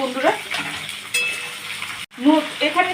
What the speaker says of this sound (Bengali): একটু সবজিগুলো ভাজা হবে